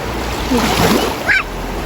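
Swift floodwater rushes over a flooded bridge in Thailand, a steady loud roaring wash of moving water, close by and continuous with no speech.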